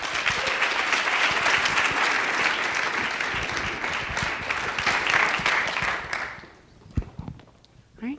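Audience applause welcoming a presenting team at the Oklahoma Funding Accelerator event, a sustained burst of clapping from a roomful of people lasting several seconds before fading out into a few scattered claps and footsteps.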